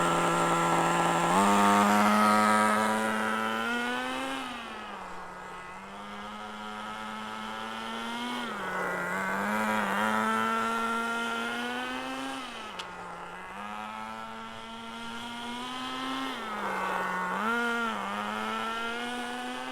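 A nitro RC car engine being broken in buzzes steadily and loudly throughout, its pitch rising and dipping in several throttle swells with no talking.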